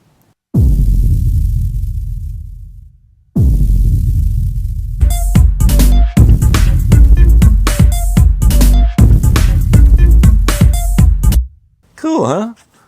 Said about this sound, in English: in the track I wanted a little more distortion, so this is just a bit crusher